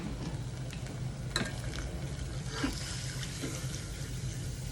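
Water is added to a pot of Southern Thai sour curry paste, giving a soft steady sizzle and liquid stirring with a few brief splashes and scrapes, fairly close and continuous.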